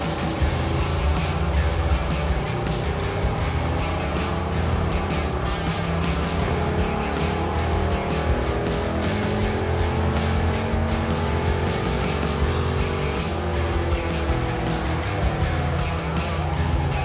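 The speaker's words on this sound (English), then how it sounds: "The next event I was able to see was Fab Rats on the dyno." An off-road vehicle runs hard on a dyno at an off-road wrecker competition event. The loud, continuous engine roar sustains for about seventeen seconds, with a shifting pitch and a constant rushing noise over it.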